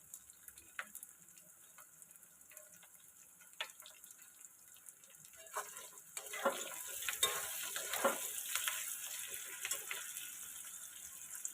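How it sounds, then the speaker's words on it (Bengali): Chopped capsicum and onion frying for chilli chicken, a faint sizzle that builds into a louder, steady hiss with stirring scrapes partway through. "ক্যাপসিকাম কুচি, পেঁয়াজ কুচি একটু ভালো করে ভেজে নেব।"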